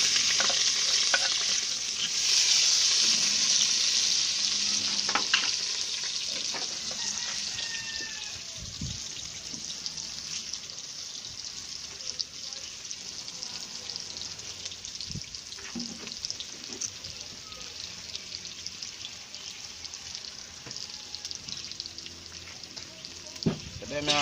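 Chicken back frying and sizzling in hot oil for a curry, a steady crackling hiss that is loudest at the start and eases a little, with occasional stirring knocks and clatter against the pot.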